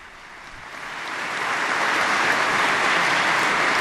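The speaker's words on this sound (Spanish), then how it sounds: "El aplauso" Applause from a community gathered in Bratislava Cathedral, swelling from a light patter into steady, sustained clapping that fills the reverberant space, with no voices over it.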